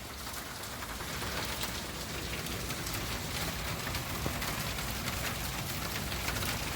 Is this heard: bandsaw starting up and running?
no